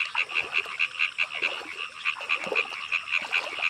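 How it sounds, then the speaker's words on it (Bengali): Frogs call at night around a dark wetland during the rainy season, a chorus of rapid, pulsing croaks repeating steadily over a faint insect-like background hiss, close and clear with no talking. "চারদিকে পুরো অন্ধকার আর ব্যাং ডাকতেছে শুধু"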